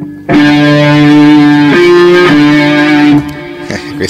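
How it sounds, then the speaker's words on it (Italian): Instrument played through a distortion pedal, giving a thick, buzzing, saturated tone; a few sustained loud notes shift pitch before cutting off and trailing into a faint tail. "E poi questo è un distorsore."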